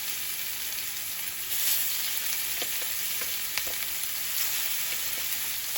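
Lamb loin chops frying in a skillet, making a continuous close hiss and sizzle with occasional small pops and crackles, no talking.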